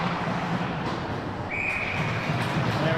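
During a youth bantam AA ice hockey game, a referee's whistle blows one sustained, fairly faint tone over a muffled rink background.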